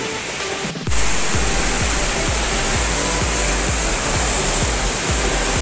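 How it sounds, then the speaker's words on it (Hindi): The Pabbar river rushes loudly beneath a swaying rope bridge in the Himachal mountains near Rohru, a dense, constant roar of white water filling the scene after a brief muffled start, with no voices. "ये जो नदी है पवर नदी"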